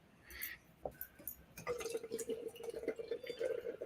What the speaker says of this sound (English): it's so nice when you pour beer and it's not oxidized looking